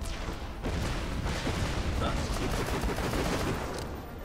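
A turret in Borderlands the Pre-Sequel fires rapid continuous bursts, loud and dense with overlapping impacts and game noise throughout, while a voice talks over it.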